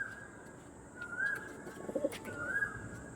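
A pure white Andhra tournament pigeon gives soft, low coos, two short rising calls spaced apart over a faint steady background hum.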